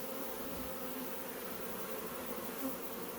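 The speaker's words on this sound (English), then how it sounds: "dumped a bunch of the bees from that inner cover into the box" A honey bee swarm being shaken into a hive box makes a steady, even buzz that fills the air throughout, moderately close and without voices.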